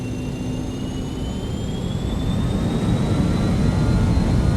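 Airliner jet engines in Microsoft Flight Simulator 2020 spool up to takeoff power, a loud, steady roar with rising whine tones that builds gradually throughout, with no talk over it.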